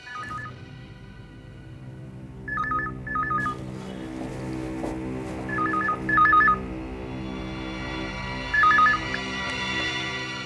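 Phone keypad tones beep in short clustered bursts of two or three presses, separated by gaps, over a steady background hum and a faint music bed.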